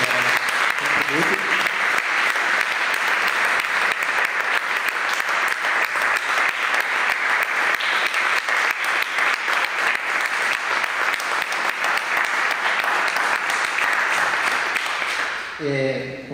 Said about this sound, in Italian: se potete fargli un grande applauso per i contributi